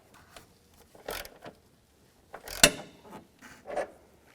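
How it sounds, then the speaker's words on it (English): Ratchet with a 13mm socket turning a transmission mount bolt on a 2011-2019 Dodge Grand Caravan: a few short, close mechanical clicking bursts spaced irregularly, with one sharper metallic snap near the middle and quiet gaps between. "I'm going to use a 13mm socket."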